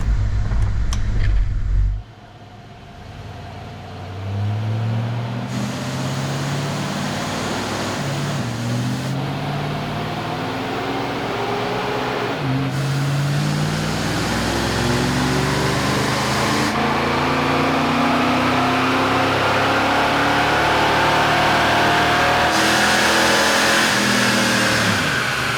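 A car on a dyno fitted with a HAWT BOXXX upper intake manifold, rated at 200 horsepower, revs loudly. The engine climbs steadily in pitch through a long sustained pull after a short start.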